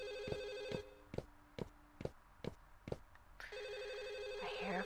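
Telephone bell ringing in the video game Firework, a repeating series of short, sharp trills at a steady rhythm, clear and fairly close, followed by a sustained electronic tone.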